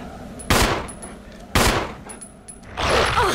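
Gunfire in the video game Resident Evil HD Remaster: three loud, sharp shots spaced about a second apart, each with a short decaying tail over low background game ambience.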